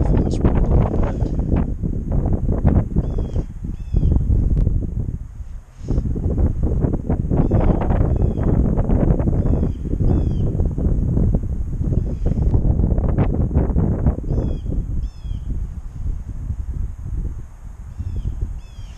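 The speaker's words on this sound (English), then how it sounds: "Be moving over into that cove to get away from this wind a little bit." Strong wind buffets the microphone on a lake, a loud rumbling gusty roar that swells and dips continuously, with faint higher chirps in the background.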